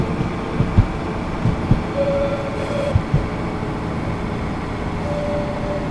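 A BR642 diesel railcar in a train simulator game rumbles along steadily, with rhythmic clacks of wheels over rail joints and a faint hum, no voices.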